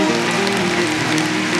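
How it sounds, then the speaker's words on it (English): Church congregation clapping hands in praise during a worship service, a dense, steady patter of many hands with a sustained musical tone underneath, brief and fairly close. "Now let's give the Lord God a hand clap of praise."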